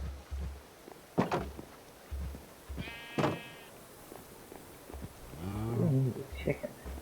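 Cows in the Minecraft modpack FTB Oceanblock give a couple of short low moos, with a few soft clicks and game noises around them at moderate volume.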